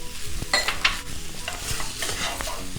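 Chicken spring roll filling with sliced carrot and tomato ketchup stirred in a pan, repeated scraping strokes of a spoon over a soft background sizzle, close and clear with no voices.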